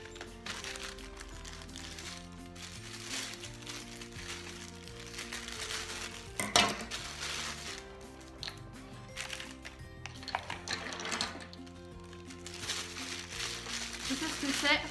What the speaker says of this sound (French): je vais ouvrir le second colis